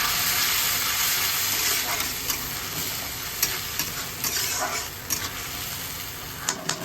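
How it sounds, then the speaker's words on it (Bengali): Chickpeas fry in a pan as salt, turmeric and chilli powder are stirred in, making a continuous close sizzle broken by a run of light scraping clicks from the spoon against the pan. "ভালো করে মিক্স করে দিই"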